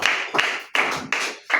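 A congregation at a children's Sunday school church service clapping loudly in unison, four or five sharp, regular claps in quick rhythm.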